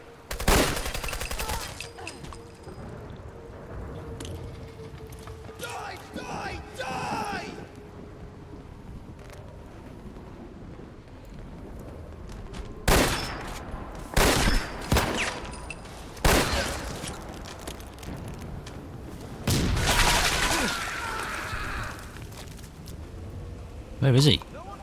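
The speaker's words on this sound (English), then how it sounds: "I'm hearing a lot of grenades dropping." Gunfire and grenade explosions in Fallout 4 combat: several loud, sharp bursts and blasts arrive in irregular clusters over a steady rumble, with a voice talking between them.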